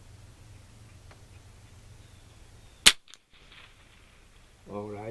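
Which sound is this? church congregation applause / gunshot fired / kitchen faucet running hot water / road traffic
gunshot fired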